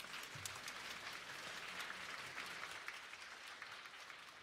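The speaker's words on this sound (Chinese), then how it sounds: "我们拍手欢迎他们，谢谢他们。" A church congregation at a Christmas praise service applauds the choir and orchestra, a steady, even patter of clapping heard faintly and at a distance throughout.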